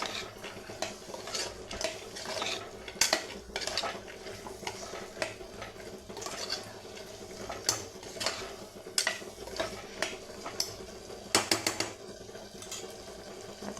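Repeated clinks and scrapes of a spoon against a metal pot as cowpeas are stirred through a thick spice paste, with steady background noise and no talking.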